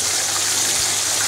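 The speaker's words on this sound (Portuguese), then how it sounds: "Vamos pôr mais água." Water is poured into a pot of courgette and leek soup, a brief, steady, close gushing splash with no talking.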